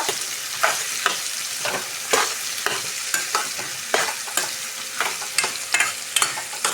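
Ivy gourd tempering fries under a constant hiss while a spoon scrapes the pan in regular strokes about once a second, close and clear with no voices.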